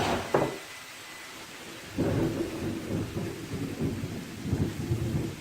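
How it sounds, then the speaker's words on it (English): A thunderstorm outside, with a sharp crack and then a long rolling rumble of thunder over steady rain. "if you can hear that, that is the storm"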